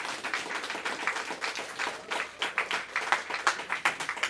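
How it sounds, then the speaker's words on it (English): Audience clapping at a political speech in Western New York, a brisk mass of hand claps near and steady, with distinct louder claps popping out of the wash throughout. "Yes, clap it up."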